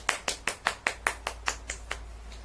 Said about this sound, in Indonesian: Ayo kita berikan tepuk tangan kepada Ibu Nita.